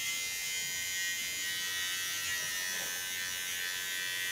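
Small electric hair clipper buzzing steadily and close while trimming the contour line of an ultra-short haircut, a continuous high electric hum with no pauses.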